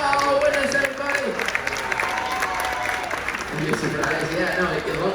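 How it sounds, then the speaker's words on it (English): A cruise ship audience on a Carnival Freedom transatlantic crossing applauds award winners, a steady burst of close clapping from a crowd with voices mixed in. "Give it up for all winners, everybody."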